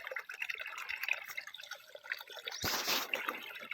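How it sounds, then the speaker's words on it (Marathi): Borewell water from 150 feet down trickles and drips steadily at a low level on a farm, then a louder rushing splash swells up near the end. "आता तिकडे पाणी पडतं"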